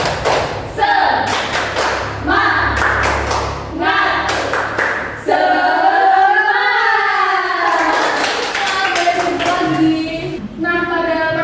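Classroom of children doing a rhythmic 'tepuk semangat' clapping routine, rapid bursts of claps and thumps interspersed with a teacher and pupils chanting and talking loudly over it.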